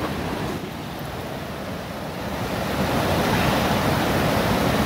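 River rapids in a Washington State mountain park roar as a steady, dense rush of whitewater, close and loud, swelling slightly louder midway with no speech over it.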